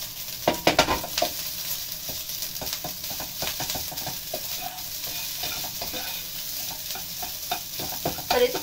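Leftover rice being stir-fried in a pan gives a continuous sizzle, broken by repeated scraping and stirring strokes of a utensil at an uneven rhythm, close and moderately loud.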